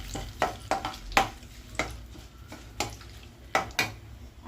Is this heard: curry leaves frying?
yes